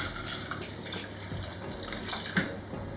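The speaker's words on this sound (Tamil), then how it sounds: "இந்த பருப்பு மூழ்கிற அளவுக்கு தண்ணி ஆட் பண்ணிக்கலாம்" Water splashes and gurgles steadily into a cooking pot of lentils for a few seconds, close and moderately loud.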